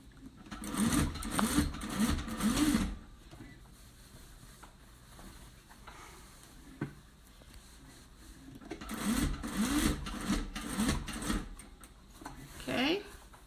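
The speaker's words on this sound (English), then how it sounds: "There's a lot of sewing." A home sewing machine stitches fabric in two rapid bursts of close, whirring, rhythmic clatter, separated by a quieter pause with small handling clicks.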